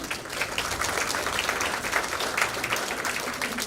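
Audience at a senior volunteer awards breakfast gives a sustained round of applause, many hands clapping steadily in a room at moderate distance, unbroken and even throughout.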